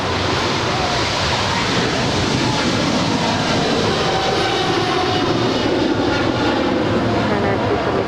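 A heavy Boeing 777 departing at Los Angeles International Airport, a loud, continuous jet engine roar with broad rumble that holds steady across the whole stretch.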